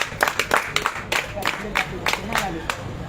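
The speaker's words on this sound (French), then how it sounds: "Que je vous demande d'applaudir" A small audience at the founding meeting of a French-speaking artists' association gives a sparse round of applause. About a dozen distinct hand claps come at an uneven rhythm, with a faint murmur underneath.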